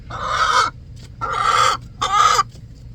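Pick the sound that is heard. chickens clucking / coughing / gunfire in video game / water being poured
chickens clucking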